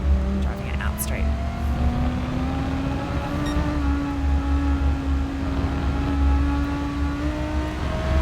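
Race car engine in Gran Turismo Sport at Spa, a steady droning hum with a slowly rising pitch as it drives fairly quickly down a straight, continuous and fairly loud, with a voice talking over it.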